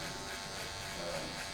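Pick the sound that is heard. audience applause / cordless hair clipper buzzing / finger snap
cordless hair clipper buzzing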